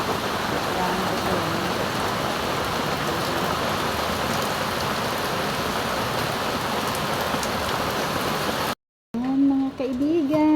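Steady, loud rain pours outside during a typhoon, filling the air as a dense hiss, then a brief cut leads to someone speaking.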